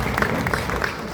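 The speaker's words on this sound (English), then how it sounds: "Please, can we have a round of applause for him?" Audience applause at a secondary school ceremony, with dense, steady clapping from a crowd in a hall throughout the brief moment.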